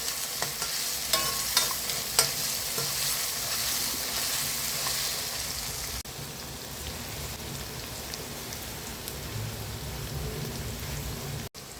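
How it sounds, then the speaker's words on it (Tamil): Onions sautéing and being stirred in a pan for tomato chutney, a dense, steady sizzle like rain with scraping strokes and a few clinks early on, close up and without any voice. "வெங்காயம் வதக்கி விட்டுக்குவோம்"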